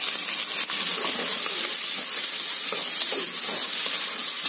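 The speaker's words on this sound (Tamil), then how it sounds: "வெங்காயம் வந்து நல்லா வதங்கணுங்க" Three large sliced onions and two green chillies fry for mushroom biryani, making a dense, even sizzle that stays close and loud the whole time, with faint stirring scrapes.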